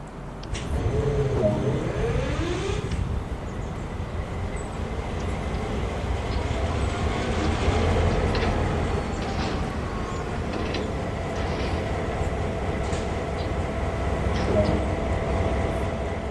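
GP38-2 diesel locomotive power unit in Train Sim World, starting up and settling into a steady low engine rumble with faint clanks and hisses, running continuously and alone.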